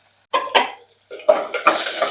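Onions, green chilli, ginger and curry leaves get stirred in a pan on the stove with a spatula, giving several scraping clatters against the metal and a light sizzle, heard alone without talk.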